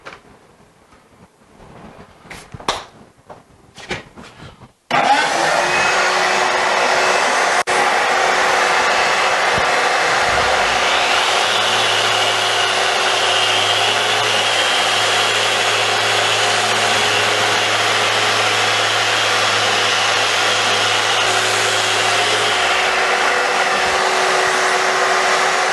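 A random orbital sander with 120 grit works over an epoxy tabletop, a loud, steady whirring hiss that starts abruptly after a few seconds of quieter clatter and runs unbroken to the end.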